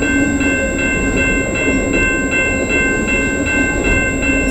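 Freight train 122 rolling past near Markham Yard in Homewood, Illinois, steady loud rumble with regular wheel clacks and a high whining tone, continuous and close throughout.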